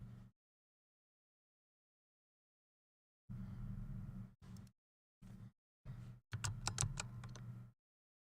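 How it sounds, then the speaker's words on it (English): Keystrokes on a computer keyboard arrive in several short bursts of close, clattering taps separated by silences, loud and near with no talk. "I apologize for all the typing sounds, that's what they are."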